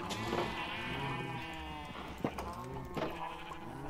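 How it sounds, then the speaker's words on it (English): Several sheep bleat in a blocky crafting and mining video game, a cluster of overlapping bleats with sharp peaks near the middle and end, over a constant bed of game sound with no talking. "These fucking sheep don't realize I'm saving them."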